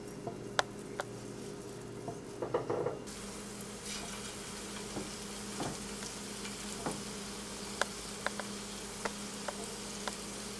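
Small meatballs fry in oil with a faint, steady sizzle and scattered crackles and pops, plus a brief clatter of handling early on.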